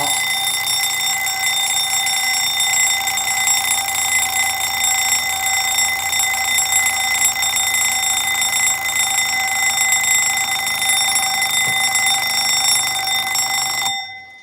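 Canadian wind-up alarm clock ringing on its soft setting, a steady continuous bell ring held close and unbroken for about fourteen seconds before stopping abruptly.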